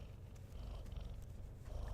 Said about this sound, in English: Oh, she's snoring. I don't know if you can hear that.